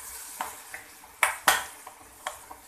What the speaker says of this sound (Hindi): अब हम इसे अच्छी तरह एक बार दोबारा स्टर कर लेते हैं